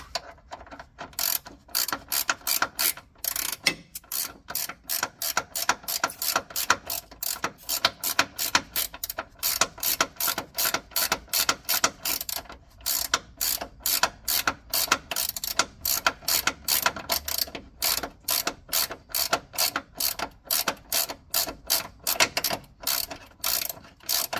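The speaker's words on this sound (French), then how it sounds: "Hop, et on visse par en dessous." A hand ratchet tightens a bolt from underneath on an Opel Corsa C front suspension arm, clicking in rapid, regular back-and-forth bursts throughout, close and alone without speech.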